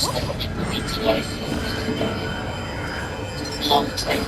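Train running along rails in a video game, a steady rolling rumble with occasional wheel screeches and metallic accents, continuous and fairly close, with a voice talking over it.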